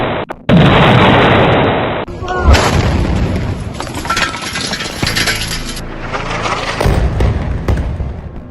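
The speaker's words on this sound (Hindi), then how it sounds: "टारगेट लॉक होता है और तभी होता है एक जोरदार धमाका" Explosion from a drone strike on a weapons depot: a sharp blast followed by a loud, rolling rumble and debris-like crackle that keeps sounding over several seconds, with several abrupt edits and further thumps.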